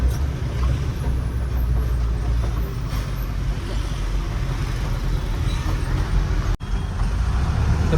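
Road traffic near Airoli rolls past as a steady low rumble of cars and heavy vehicles, a continuous dense drone heard close by with a brief sharp knock near the end.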